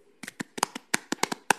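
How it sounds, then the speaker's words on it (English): A few scattered, close individual claps from participants in an online meeting, about a dozen sharp, irregular hand claps over a quiet background. "if you could just join me in some applause of thank you for all that they do"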